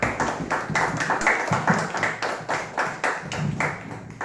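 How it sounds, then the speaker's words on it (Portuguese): An audience at a church sermon claps in welcome, a steady run of hand claps with a fairly even rhythm. The applause is moderately loud and close and continues throughout. "Vamos receber o Senhor Marcílio com a calorosa salva de palmas"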